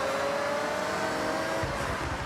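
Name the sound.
Mazda MX-5 Miata car engine in Forza Horizon video game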